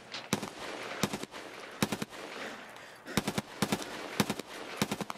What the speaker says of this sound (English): How many shots are you gonna take?